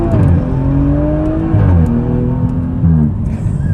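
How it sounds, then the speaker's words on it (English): A straight-piped, modified BMW M135i hot hatch revs loudly up close, its engine note climbing and dropping through several short bursts with a raspy exhaust edge. "it's straight piped with a few mods, which means it's pretty bloody loud"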